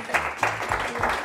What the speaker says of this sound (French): on peut déjà réapplaudir l'équipe Light On qui le mérite aussi